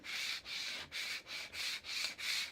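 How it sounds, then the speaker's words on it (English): A scraper held at a 45-degree angle scrapes deep grooves into a cutting mat in six steady, evenly spaced strokes, each a close, dry rasp with short pauses between, and no other sound. "If I use the scraper like this at a 45-degree angle"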